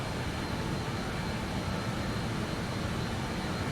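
The engines of a BAE146-100 jet airliner roar steadily as the aircraft accelerates. The broadband rumble is constant and loud for the whole stretch, with no talking.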